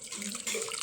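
Cooled boiled water pours in a brief, close, steady splashing stream lasting under a second, with no voices.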